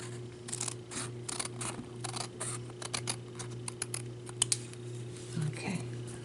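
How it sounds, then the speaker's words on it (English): Scissors snip through a paper Victorian shabby chic Christmas ornament tag, a run of short crisp cuts over a steady low hum, with one or two sharper clicks near the end. "And then we're going to cut this side."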